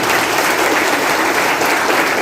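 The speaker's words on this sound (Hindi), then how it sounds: "मैं चाहूँगा एक बार उनके लिए जोरदार ताली होनी चाहिए" Loud, steady applause from an audience at a motivational network-marketing gathering, dense clapping sustained without a break and no talk over it.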